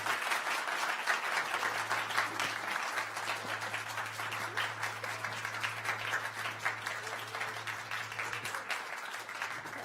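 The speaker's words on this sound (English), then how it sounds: "can we give all four presenters a big round of applause?" An audience at a conference gives a sustained round of applause for four presenters, dense steady clapping from a crowd that continues for about ten seconds.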